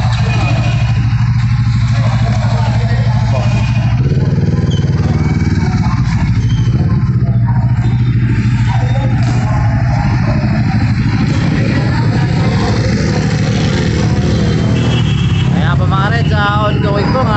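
A motorcycle engine runs at close range on a Metro Manila street, giving a loud, continuous low drone with slight rises and falls. Voices are heard intermittently over it.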